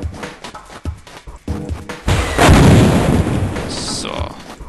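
Gunfire effects in the video game Fighting Force: a few sharp clattering shots and impacts followed by a loud sustained burst of explosive, artillery-like blasting, then a ringing tail.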